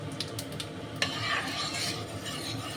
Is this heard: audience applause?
no